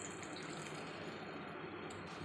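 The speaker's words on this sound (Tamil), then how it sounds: "கொஞ்சம் தண்ணி ஊற்றிக்கிடுதேன்" Water being poured into a cooking pot while making green gram kuzhambu: a steady, soft splashing gush that runs evenly for a couple of seconds, quiet and close.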